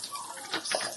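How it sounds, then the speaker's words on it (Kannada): Mustard seeds splutter and crackle in hot oil for an old-style dry fish curry, a close, hissy burst of sharp pops rising and falling over about a second, with no voices. "ಅದ್ ನೋಡಿ ಸಿಡಿತುಂಟು ಟಪ ಟಪ ಅಂತ"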